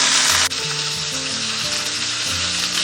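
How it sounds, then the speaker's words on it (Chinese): Eel pieces drop into hot oil in a wok already sizzling with aromatics. A loud, continuous close sizzle and fry with stirring runs throughout, and no one talks. "然后我们把鳗鱼给它放上去"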